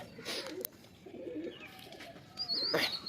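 Tournament racing pigeons in a loft at Sankrail, Howrah, give a few soft, low coos in separate bursts, close by, over a faint background hiss.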